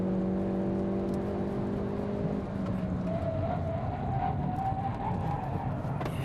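A car with a DCT gearbox is driven hard around a race track, its engine droning steadily from inside the cabin with shifting pitch and road roar throughout.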